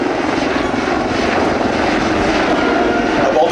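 Loud, continuous rotor and turbine roar of a Eurocopter EC665 Tigre attack helicopter flying at an airshow, steady and close throughout with no gaps.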